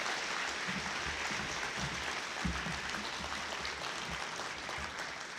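Sustained audience applause at a police academy graduation ceremony for an honored doctor, a thick, even roar of many hands clapping throughout with a faint low murmur beneath.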